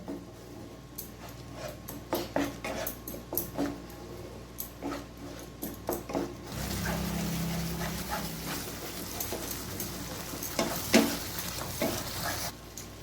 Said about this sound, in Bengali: এরপর আমি ভালোভাবে আবার কষিয়ে নেব। আঁচটা আপনারা লো ফ্লেমে রাখবেন।